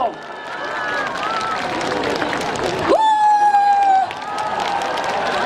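Audience applause and cheering welcoming a singer on a stage show, a broad steady wash of clapping from a large crowd with a voice and a rising musical tone sounding over it.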